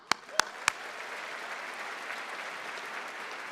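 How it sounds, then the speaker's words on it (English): Audience at an evening public talk breaking into a round of applause, opening with a few sharp individual claps and then settling into steady, moderately loud clapping from a crowd. "You all deserve a big round of applause."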